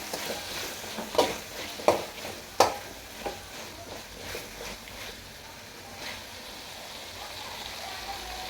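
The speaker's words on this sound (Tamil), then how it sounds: "சுண்டைக்காவை போட்டு நல்லா வதக்கிடலாம்." Turkey berries tossed in a pan with softened onion and tomato, giving a low, steady sizzle with a few sharp stirring clicks and clatters near the start, then settling into gentle frying noise.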